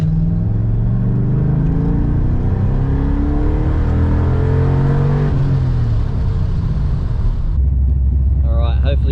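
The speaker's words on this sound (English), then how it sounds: "hopefully you get some exhaust noise" LS1 V8 engine in a BMW 5-Series sleeper, revving hard with loud exhaust roar, pitch climbing steadily through the gears then dropping off, close and dominant from inside the car.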